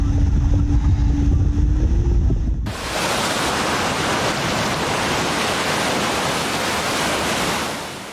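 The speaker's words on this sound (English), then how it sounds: "The famous Chantang tidal bore once again amazed spectators, with its dragon-like waves rolling powerfully along the riverbank" The Qiantang River tidal bore rolls along the riverbank as a loud, continuous roar of rushing water, which rises sharply after a short stretch of other sound and stays heavy and unbroken.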